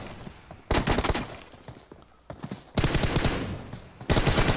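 Loud bursts of automatic gunfire in a PUBG team deathmatch, with three long close volleys separated by quieter gaps of scattered game sounds.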